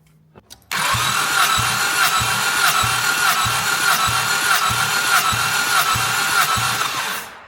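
A 1988 Chrysler Conquest Turbo engine, a barn find sitting ten years, cranks over on the starter during a compression test, a loud, close, steady rhythmic chugging that runs for several seconds and then cuts off, with no one talking.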